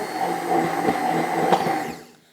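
A kitchen blender whirs steadily as it purees bananas for a smoothie, a loud, even motor drone with slight pulsing that winds down and stops at the end, with no voices over it.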